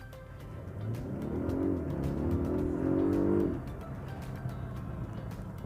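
A Polestar 1 hybrid car pulling away from a standstill in power mode, a muffled rising engine tone heard from inside the cabin, swelling for a couple of seconds then dropping, with faint birdsong outside.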